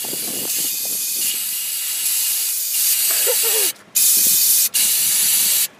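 A spray can sprays paint onto scooter parts being prepared for hydro dipping, making a loud, continuous close hiss. Near the end it breaks into a few short bursts with brief pauses, and faint voices sit underneath.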